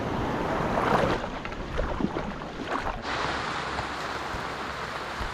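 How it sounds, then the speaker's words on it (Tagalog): Heavy rain pours down steadily in a dense, continuous hiss at close range, with gusts of wind buffeting the microphone and no voices. "Grabe yung ulan oh. Makapal-kapal to."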